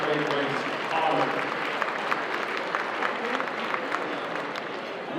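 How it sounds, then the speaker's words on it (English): A banquet crowd applauds the race sponsors at the Iditarod mushers banquet, a dense, steady roar of many hands clapping that holds evenly throughout, with a voice briefly audible at the start. "Let's give a big round of applause, if you will, for these dedicated partners of the Live Great Race Honor."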